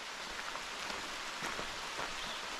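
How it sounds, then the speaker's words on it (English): Steady rain falls in Mammoth Cave National Park, Kentucky, a continuous close hiss of drops with a few louder individual splats, no voices. "It's raining up there."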